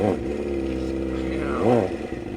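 A lawn mower engine hums steadily nearby, then is throttled up in a brief rev and settles back down.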